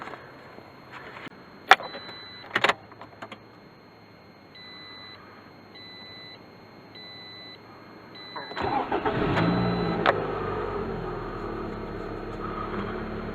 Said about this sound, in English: it's the first startup after the fresh oil change